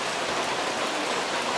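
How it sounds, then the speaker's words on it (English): Steady rain pours down outdoors on an evening that has been wet for hours, a dense, even hiss of drops close by with no voices. "7:35 and it's still raining."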